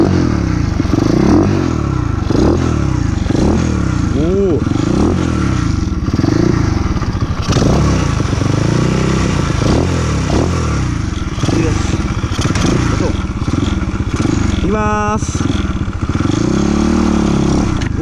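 A Choinori scooter fitted with a swapped Monkey-type horizontal engine runs loud and close, a steady buzzing idle with revs rising and falling and clattering mechanical noise throughout.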